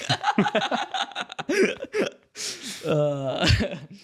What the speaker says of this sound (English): that was a great burp